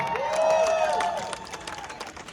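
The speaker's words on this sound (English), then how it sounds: "One more round of applause for our borough president" A rally crowd outdoors at Washington Square Park applauds the borough president, a scattered patter of claps and some cheering that lingers behind a rising shout, fairly distant and moderate in level.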